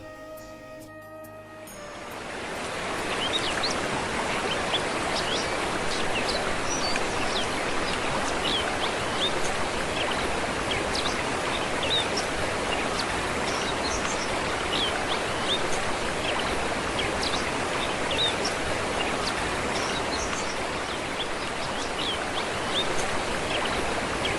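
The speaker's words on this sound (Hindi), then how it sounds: "झरने की पानी गिरने की सुंदर आवाज़ का अनुभव ले सकते हैं" Waterfall on the route to Badrinath in the Himalayas, a steady, loud broadband rush of falling water that swells in over the first few seconds and then holds constant, with no voices.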